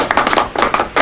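Brief, close applause from a small gathering at a Korean council leadership handover meeting, a few bursts of hand claps over about a second with no voices.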